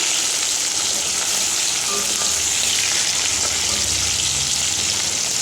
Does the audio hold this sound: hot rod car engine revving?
no